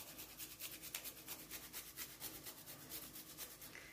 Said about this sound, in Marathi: आलं किसून घ्या.